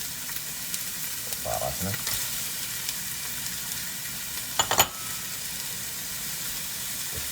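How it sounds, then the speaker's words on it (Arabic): Onion frying in a pot for a fresh lamb kabsa, a steady sizzle with brief stirring clatter near the middle and a few quiet spoken words over it. "بنحمس بصيلتنا"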